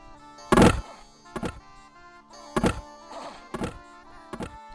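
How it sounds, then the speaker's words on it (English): Mass volleys of missile fire in the Dominions 4 strategy game come through as several sharp, heavy thunks in quick bursts, with a loud first impact followed by spaced repeated hits over a few seconds. "Oh, I love those mass volleys."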